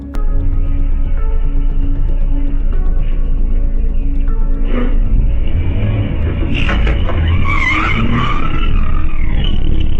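A public bus pulls away and accelerates with its rear door left open, a loud steady engine roar and road rumble that builds, with a sharp squeal and clatter toward the end.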